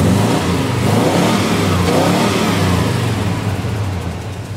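A car with ceramic-coated headers idles and revs steadily, a loud, continuous engine rumble near the microphone that eases slightly toward the end, with no talking.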